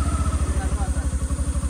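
A motorcycle engine runs with a steady, rapid low thumping pulse, close and loud, at the start of a ride in Dapoli in the Konkan region.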